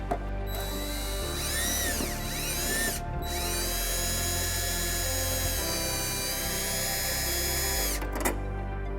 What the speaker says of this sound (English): We're going to use a Phillips bit or Phillips screwdriver to remove those.